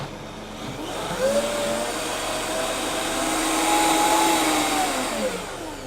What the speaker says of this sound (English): I've half filled my blender jug with water, so we're just going to give it a quick wash